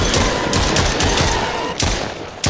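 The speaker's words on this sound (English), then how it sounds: "This is the only situation you need an automatic assault rifle." Automatic assault rifle fire in a video game, a loud, close, continuous rapid burst of shots with a few sharper cracks, no talking.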